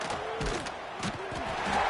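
Football stadium crowd roaring steadily after a defensive stop for no gain, a dense sustained cheer that swells toward the end, with faint voices mixed in.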